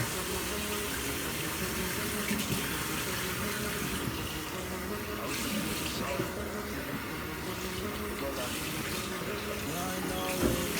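Water runs steadily from a tap while hair is wetted during a black men's curly hair routine, a continuous close splashing flow with faint speech underneath.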